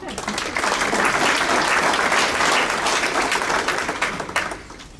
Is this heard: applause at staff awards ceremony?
yes